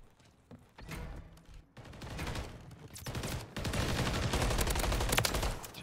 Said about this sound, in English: I'm getting shot through the wall.